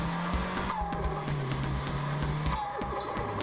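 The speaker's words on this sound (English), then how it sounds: "the compressor, briefly slowing it and producing that stuttering flutter sound" A Mazda's turbo compressor surging with a rapid stuttering flutter over loud, steady engine and intake noise, with sweeping whistle tones throughout and no voices.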